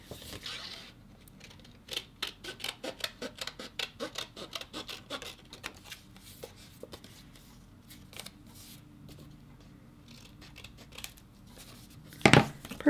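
Scissors trim around a paper title on a December 2013 mini album cover, a long run of quick, rhythmic snips close by, easing off midway, ending with a louder handling rustle.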